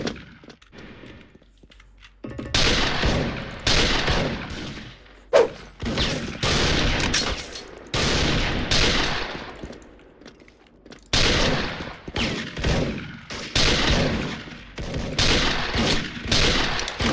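MSG-90 DMR rifle fire in the Special Force video game: after a quiet opening, loud crisp shots ring out in rapid bursts with short pauses between volleys, close and punchy, with no talking.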